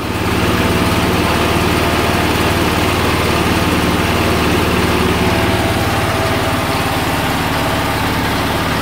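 A 1982 John Deere 214 lawn tractor engine runs steadily just after its first start, a loud, close, continuous buzzing drone with a faint low idle rumble and no talking.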